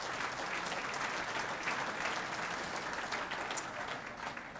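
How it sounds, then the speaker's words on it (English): Round of applause from the audience at the 2012 Main Event welcome speech, sustained hand clapping throughout at a moderate distance, fading slightly near the end. "So I'd like to see a round of applause offered to these guys."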